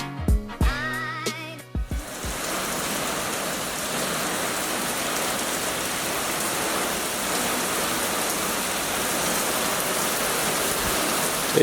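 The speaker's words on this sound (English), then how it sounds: "It just started storming out of nowhere." A sudden rainstorm in southern Alabama starts after a couple of seconds of other sounds, then becomes a steady, dense hiss of heavy rain falling on surfaces, loud and continuous throughout.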